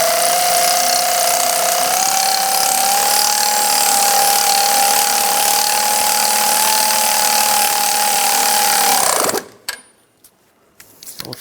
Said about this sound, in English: We're going to tighten this down